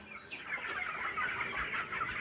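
Broiler chickens cluck and murmur continuously nearby, a busy overlapping chorus of short throaty calls with no talking.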